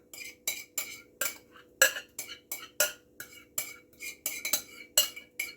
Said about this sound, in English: I'm going to fold this ricotta and the egg mixture in here with the flour